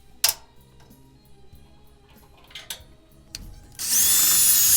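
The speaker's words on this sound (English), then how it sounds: "drill a new screw hole on the other side" Power drill cutting a new screw hole in a sheet-metal furnace panel, a few sharp clicks and short taps first, then the drill spins up into a loud, steady high whir near the end.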